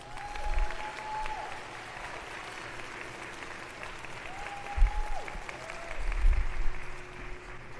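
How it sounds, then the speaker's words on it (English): Audience applause follows a talk at a conference session, steady and moderate in level, with a faint tonal hum running underneath and a couple of thumps partway through. "Another round of applause for Sam Wallis, everybody."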